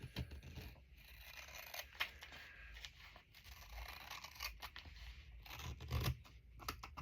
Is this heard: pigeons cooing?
no